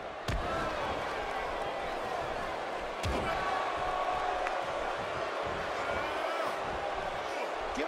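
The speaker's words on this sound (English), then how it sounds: "Will you listen to this crowd?" A large wrestling arena crowd in the video game WWE 2K17 roars and cheers continuously, a dense wall of noise with a couple of sharp thuds cutting through.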